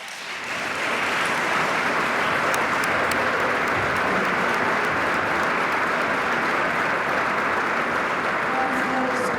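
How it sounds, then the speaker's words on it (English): A large crowd applauds steadily, a dense, sustained wash of clapping that swells in quickly and holds at full strength with no talking, for the cabinet at the New York State of the State address. "Let's give a round of applause to the cabinet."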